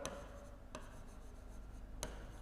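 Chalk or marker strokes tap and scrape on a classroom board during a chemistry lecture, a few short close marks spaced apart with no talk over them.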